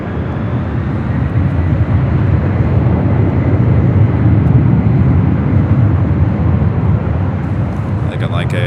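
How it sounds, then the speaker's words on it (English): A Cathay Pacific cargo plane arriving from Anchorage lands on runway 25 Left at LAX, a loud, steady, broad jet roar that holds throughout without a break. "Cathay Pacific Cargo coming in from Anchorage, landing on the south side at 25 left."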